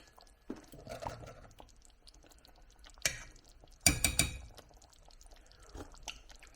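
Tasting cooked Chicken Changezi, a spiced chicken curry: close, wet chewing and smacking with a few sharp clicks and squishy mouth noises in bursts, no talking.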